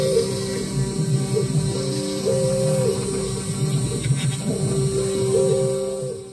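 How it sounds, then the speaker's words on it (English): A G-code-driven cutting machine cuts out a plastic replacement puzzle piece, with a steady motor hum and whining tones that rise, fall and shift as the head moves. No one talks. "here is the machine actually cutting out the piece"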